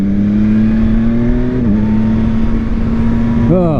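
A Hellcat-style car does burnouts in a roundabout, its engine holding a steady droning roar that dips briefly and then climbs again, heard continuously at moderate distance.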